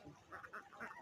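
A flock of farm ducks playing on the water, a few short nasal quacks overlapping in quick succession, fairly quiet and close, with no speech.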